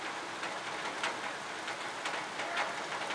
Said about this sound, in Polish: Jest wielka ulewa. Już dawno nie było takiego strasznego deszczu.